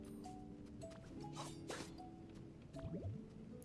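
A Pokemon uses Water Gun in the Pokemon Pokopia video game, making soft, wet squirting and dripping sounds mixed with squishy splashes and short tonal chirps and blips, all quiet and close, with no talking.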